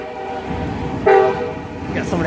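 A train horn blasts briefly and loudly over a steady rumble of rail traffic, with a fainter higher tone following shortly after.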